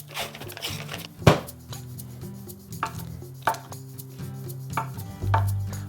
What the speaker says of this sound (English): You're going to take 1 package of Grands, cut them into 9ths